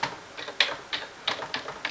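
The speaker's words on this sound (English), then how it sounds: "Then I'm going to try and type in here compress" Typing on a computer keyboard, heard as a handful of separate, close key clatters spaced irregularly over a couple of seconds, with no talk.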